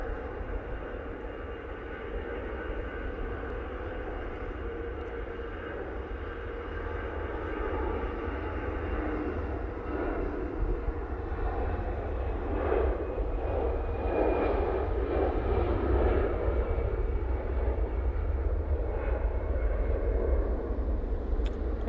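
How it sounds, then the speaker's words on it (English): An Airbus A320 airliner makes its takeoff roll at Manchester Airport, heard from a distance. The engine roar is a fairly faint, broad rumble that swells steadily as the jet accelerates, with no voices over it. "He's getting down the roll."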